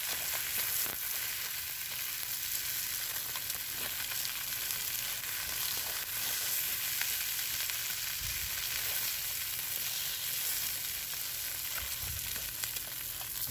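Fish stuffed with ginger sizzling on a grill, a dense, steady crackling hiss that continues unbroken and fairly loud from start to end.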